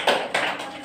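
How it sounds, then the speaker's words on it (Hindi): Schoolchildren clap in a classroom for a classmate who found a number, a brief burst of applause with two quick surges close by. "क्लैप करो इनके लिए, ताली,"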